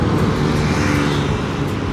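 Steady engine drone and road roar of a car with a CVT transmission accelerating to overtake, heard from inside as a continuous loud hum with no talking.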